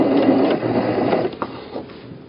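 Sewing machine stitching along the edge of a tote bag, a fast buzzing run of stitches that slows and stops near the end, close and moderately loud.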